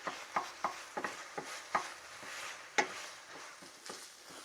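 Meat browning in a hot pan, a steady sizzle with sharp scraping stirs and spatula clicks at an uneven pace, close and moderately loud, no voices.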